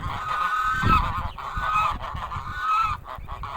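Geese honk repeatedly and loudly, close by, in overlapping nasal calls as their goslings head toward the water.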